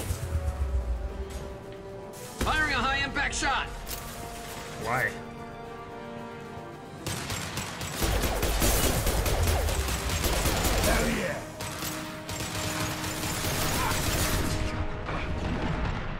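Sustained gunfire in Mass Effect 2 on Insanity, rapid bursts and dense volleys of rifle fire rattling through most of the stretch, with brief voices and combat chatter in between.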